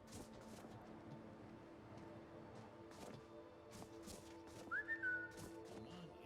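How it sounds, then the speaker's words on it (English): A short, faint, rising whistle sounds once in a video game, set against a low, steady ambient background with a few soft footstep-like taps. "Come on, Inigo, you're supposed to respond to the whistle"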